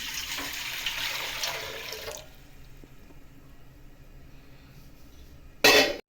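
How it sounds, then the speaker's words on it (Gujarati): Water is poured from a small pot into a large cooking pot with a steady, splashing rush for about two seconds. It then drops to faint drips and quiet room noise, ending in a sharp brief clatter. "તપેલું મૂકીશું મોટું તેમાં પાણી રેડીશું"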